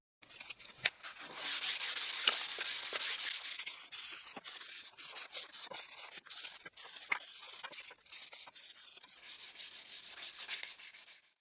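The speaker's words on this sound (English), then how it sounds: "I'll sand manually with 220 grit sandpaper" Steady scratchy rubbing of 220 grit sandpaper on pallet wood by hand, back-and-forth strokes continuing for several seconds, close up with no talking.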